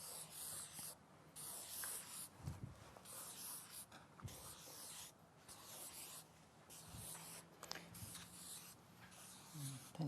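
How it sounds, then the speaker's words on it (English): A pen drawing a series of ellipses on big sheets of paper, a soft continuous scratchy scribble with short repeated strokes, close and steady under faint room noise. "So you're just going to draw a series of ellipses."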